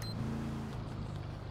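A car engine in a video game roleplay, a low steady hum that is sustained and moderately loud, with no talking.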